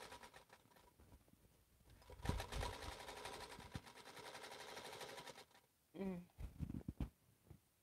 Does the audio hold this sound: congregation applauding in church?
no